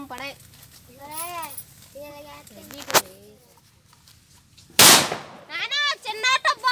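An auto bomb firecracker set off during Nagula Chavithi festivities bursts with a sharp crack, then a louder, longer blast. Children chatter and call out before and after the explosions.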